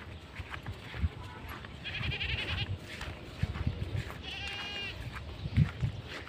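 Goats bleat on a farm near an eggplant field where water buffalo are also kept, two drawn-out wavering calls rising over outdoor background noise with scattered thumps and rustles.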